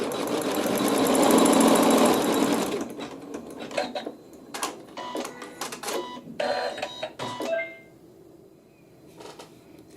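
A sewing machine stitches a seam, running in a loud steady whir for about three seconds, then continuing in shorter, quieter bursts with brief pauses between them.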